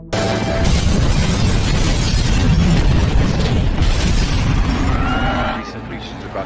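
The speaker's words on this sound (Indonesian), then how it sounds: "John langsung meledakkan markas tersebut" A dense, sustained roar of a film explosion blowing up a hideout fills the whole stretch, thick and rumbling with crackling debris, before tapering off slightly near the end.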